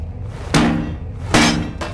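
Two loud, sharp hammer blows land a little under a second apart in the horror video game Penumbra: Overture, followed by a softer third knock, over a low ambient hum.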